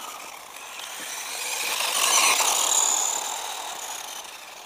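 Cheap 1:12 scale 2WD brushed-motor RC truggy driving through snow, a thin high electric motor whine that swells louder as it nears then fades away, with no talk.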